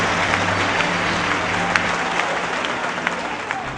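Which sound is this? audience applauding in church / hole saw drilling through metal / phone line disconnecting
audience applauding in church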